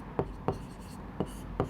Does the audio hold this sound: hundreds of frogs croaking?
no